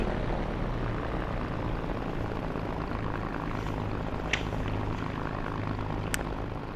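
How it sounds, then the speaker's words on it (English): A simulated P-51D Mustang piston engine idles at low RPM in the DCS flight game, with a steady, even low rumble and no other sounds apart from a couple of faint clicks. "Idle the engine at 650 to 700 RPM with the throttle against the idle stop."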